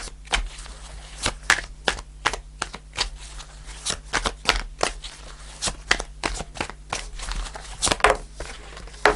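Tarot cards being shuffled and drawn onto a table during a reading: a steady run of crisp, close card flicks and slaps with irregular bursts, heard alone without voices.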